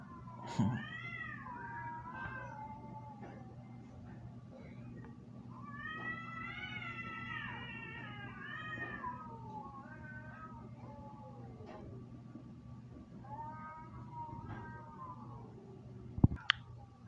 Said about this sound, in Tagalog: maririnig mo na ang mga ingay ng mga pusa